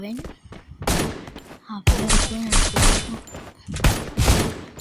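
Rapid bursts of gunfire in the Free Fire mobile battle game during a one-versus-one match, loud repeated volleys crackling in clusters with short gaps, with game sounds and voices mixed in.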